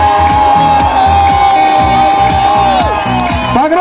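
A loud crowd of fans cheers and whoops continuously at an ice swimming world championship final in Murmansk, with a PA announcer's voice running over the steady roar.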